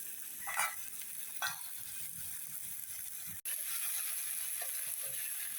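Chicken meat fries in spices in a pan, giving a soft, constant hiss with a couple of brief scraping stirs. A faint high tone runs throughout.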